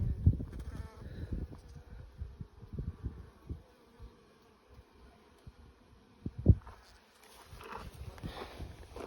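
Honeybees buzz faintly around an opened hive that swarmed in August. The soft, steady hum is broken by close bumps and handling knocks of hive frames, and there is no talking.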